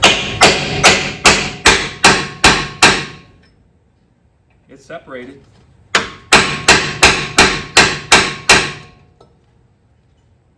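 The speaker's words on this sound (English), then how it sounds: "let's get our pin punch and just a good old hammer and see if we can get it out" Two bursts of sharp metallic hammer blows on a pin punch, driving a pin out of metal on a Dodge D100 truck, about seven evenly spaced strikes each, loud and close, with a brief spoken remark between them.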